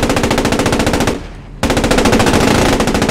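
Tank machine gun fire from a Panzer IV rattles in the World War 2 game Post Scriptum. Loud, close, rapid bursts run continuously, with a brief pause in the middle before the firing resumes.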